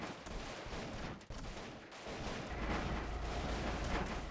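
Airship guns fire in a flying combat game, a heavy, rumbling barrage of cannon and gunfire that is steady and fairly distant, swelling louder toward the end.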